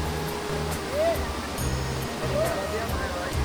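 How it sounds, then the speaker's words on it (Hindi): Strong river water rushing past the Banganga bathing ghat, a continuous loud broadband roar of flowing water with bathers nearby, faint tonal chirps and hums mixed in underneath. "अच्छा खासा पानी चल रहा है।"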